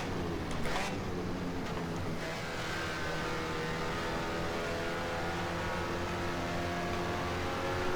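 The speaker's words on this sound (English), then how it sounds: "I just love the sound that you get when you blip on downshift." A Mazda MX-5 Spec Miata race car engine in the video game rFactor 2 drones steadily at high revs, with a few quick throttle blips on downshifts and shifting pitch, continuous and loud throughout.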